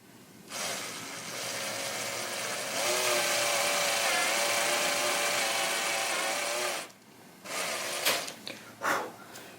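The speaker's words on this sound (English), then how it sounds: "The existing holes will actually guide the drill bit, and it shouldn't be any kind of problem really" A power drill whines steadily through the existing holes of a Telecaster-style guitar bridge, starting slow and then louder, before stopping with a few short bursts and scrapes.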